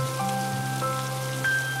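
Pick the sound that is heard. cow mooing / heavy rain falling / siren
heavy rain falling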